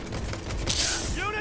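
Gunfire bursts in Cyberpunk 2077 crackle in a dense, busy game mix, with a sharp loud burst near the middle followed by ringing metallic tails and voices talking underneath.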